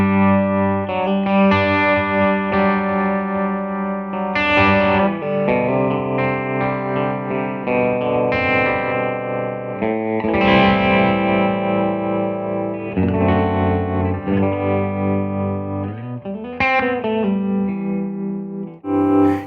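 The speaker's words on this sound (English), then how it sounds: "let's put a little tremolo in there" An electric guitar plays through a Supro Black Magick Reverb amp with tremolo switched on. Sustained, driven chords and notes ring out with a pulsing, wavering texture and reverb, loud and unbroken throughout with no talking.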